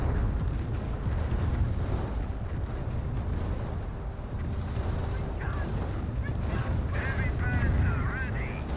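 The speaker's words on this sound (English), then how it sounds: "Panther taking some damage. Double Panther shots there." Panther tank cannon fire in the World War II strategy game Company of Heroes, with booming shots and explosions thudding within a constant dense din of battle and a commentator talking over it.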